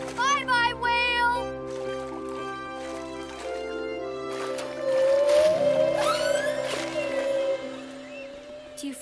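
Whale calls in a cartoon sound as long moaning and rising tones that swell midway, mixed with music, splashy effects and children's voices.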